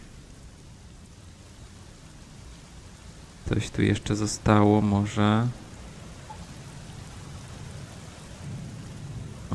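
Rain and thunder from the video game Black Mirror form a steady, hissing background wash throughout, with a short stretch of spoken voice passing over the middle while the rainfall continues underneath.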